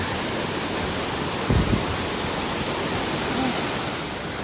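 White Oak Canyon Upper Falls in Shenandoah National Park, heard as a steady, close, broadband roar of falling water with a brief thump partway through.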